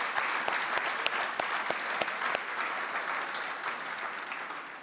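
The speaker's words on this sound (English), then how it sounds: "How about a big round of applause for our guests of honour?" Applause from the audience at an awards night fills the room, a dense steady wash of many hands clapping with a few sharper claps standing out, easing off slightly toward the end.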